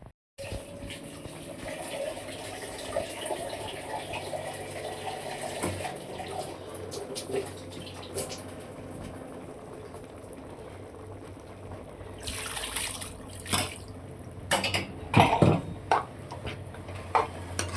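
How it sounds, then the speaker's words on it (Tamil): Water poured into a pot of drumstick, potato and prawn curry, a steady gushing stream with clinks of metal near the end, fairly close and with no talking. "குழம்புன்றதுனால கொஞ்சம் தண்ணி ஊற்றியாச்சு."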